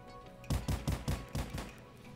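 Pistol shots in the video game Polyfield: about eight sharp, punchy reports in quick uneven succession, close and loud against a quiet background.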